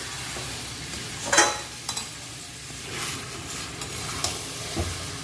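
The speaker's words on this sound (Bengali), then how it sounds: "মাংসটা আমি মশলা দিয়ে ভালো করে কষিয়ে নেব।" Mutton being sautéed with spices in a pan for a curry, a soft sizzle running underneath while a spoon scrapes and stirs; several sharper clinks and scrapes stand out against the low, steady hiss, with no talking.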